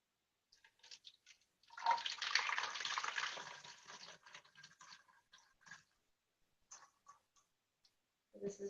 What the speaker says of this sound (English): Let me get a cup of water first.